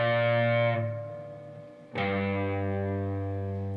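Electric guitar plays a slow passage through a distorted, effected tone: a sustained chord that fades, then a fresh strike near two seconds that rings on, loud and alone.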